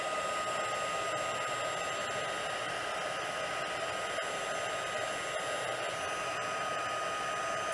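Heat tool melting embossing powder on card, a steady, even blowing whir held at constant level throughout, close and uninterrupted with no voices.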